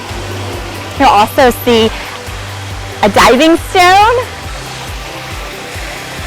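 A backyard pool waterfall at a McKinney, Texas home keeps up a steady rushing splash throughout, while a person speaks briefly over it in two short bursts.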